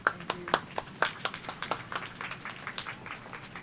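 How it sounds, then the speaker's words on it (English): Scattered clapping from a small audience at a poetry showcase greets a poet, a handful of distinct claps near the start thinning into lighter, uneven patter over a few seconds. "Round of applause for Princess."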